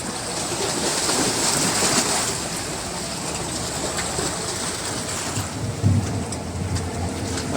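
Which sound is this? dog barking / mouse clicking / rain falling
rain falling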